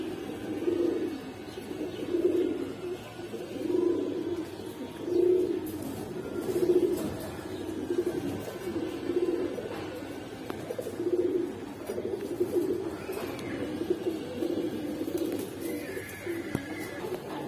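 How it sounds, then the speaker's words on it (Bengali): Pigeons at a market coo in a steady rhythmic series, soft repeated throaty calls about every second or so, close by over faint background noise. "এটা ওনার বাসায় উড়ানো কবুতর"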